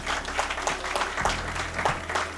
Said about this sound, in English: Just clap for yourselves, guys.